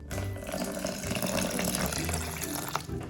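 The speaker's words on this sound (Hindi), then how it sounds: "तो पानी मैं इसमें फिलहाल डाल रही हूँ 2 कप" Two cups of water pour into a lemonade mix in a kitchen, a continuous close splashing gush that runs unbroken for a few seconds with no talk.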